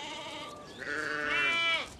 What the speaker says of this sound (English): Sheep were first domesticated in the Middle East and Central Asia and have been herded by the Kazakhs